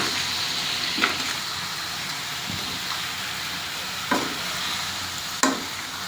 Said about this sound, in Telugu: కడిగి పెట్టుకున్న చికెన్ను అందులో వేసి కలియదిప్పుదామండి.